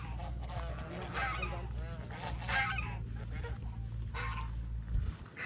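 Geese on a farm honk repeatedly in short bursts nearby while chasing, over a low background hum, with loud, nasal calls coming in clusters.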